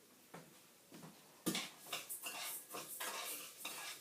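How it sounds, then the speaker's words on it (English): A spoon scrapes and clinks against a pan as rice toasts, a few soft early strokes and then a louder, busier run of scraping and stirring, close up with no voices. "So you just give it a stir now and then."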